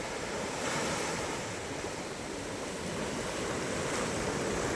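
Sea waves wash up on a beach with strong currents and quicksand, a loud continuous surf roar swelling slightly, mixed with wind buffeting the microphone and no talk.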